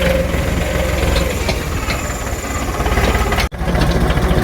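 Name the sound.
tractor engine running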